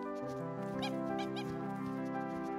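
Pet puppy in the video game Happy Game, a few short high whimpers and yips over a steady droning game-music backdrop.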